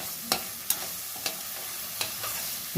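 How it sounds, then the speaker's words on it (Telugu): Onions and ginger-garlic paste fry in a pan with a continuous close sizzle. Sharp clanks from a spoon stirring punctuate it about five times. "ఈ ఉల్లిపాయలతో పాటు అల్లం వెల్లుల్లి పేస్టు పచ్చివాసన పోయేంత వరకు వేగాలి"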